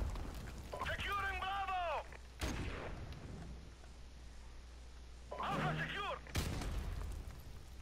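Grenade blasts in the shooter game Modern Warfare Remastered, two sharp booming bursts a few seconds apart, with players talking between and over them.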